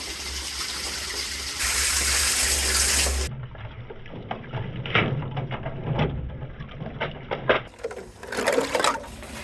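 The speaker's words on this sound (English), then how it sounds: "we're just gonna test out the water butt now that I've affixed the tap to see how it works" Water gushes steadily from a newly fitted tap on an allotment shed water butt, a loud continuous splash that shifts partway through into spattering on the ground below.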